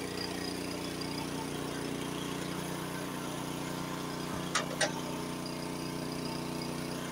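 Honda snowblower engine drones steadily at close range while throwing snow, a constant mid-pitched motor hum with two brief knocks near the end.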